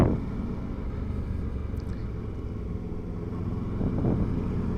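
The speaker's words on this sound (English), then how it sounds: "I'm finally on the bike again." A motorcycle rides along in steady motion, giving a continuous low engine rumble mixed with wind and road noise that swells slightly toward the end.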